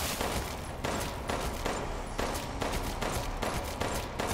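Rapid gunfire in the Resident Evil Village video game, a sustained string of evenly spaced shots blending into a steady volley, moderately quiet and without talk.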